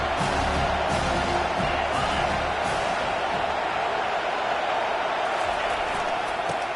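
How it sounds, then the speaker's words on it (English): Dense roar of a football stadium crowd at a Rutgers at Penn State college game, loud and sustained throughout with rising cheers, a broadcast commentator's voice running over it. "Listen to this crowd just shaking the girders of this place"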